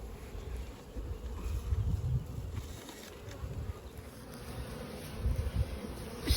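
Honeybees buzz around a fed, reduced hive in an outdoor apiary, a dense, soft, continuous hum of many insects with occasional closer passes and light wind.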